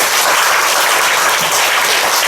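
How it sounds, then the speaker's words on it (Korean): A church congregation applauds loudly to welcome a guest during a Sunday service, with dense, sustained clapping from many hands filling the room. "박수로 환영하겠습니다"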